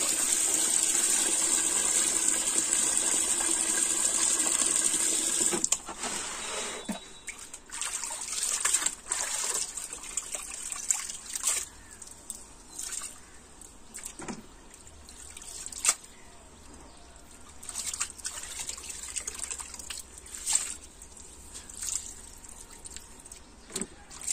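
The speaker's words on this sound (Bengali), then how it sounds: "জামা কাপড় এখন ধুয়ে নিচ্ছে পরিষ্কার।" Water splashes and trickles steadily while clothes are washed by hand at a home in Bengal, starting as a continuous gushing flow and turning into intermittent sloshing and dripping with quiet pauses.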